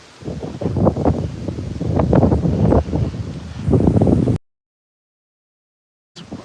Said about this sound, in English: Wow, it's really windy, isn't it?